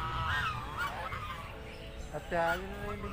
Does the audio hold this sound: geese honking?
yes